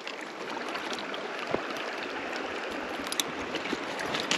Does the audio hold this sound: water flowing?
yes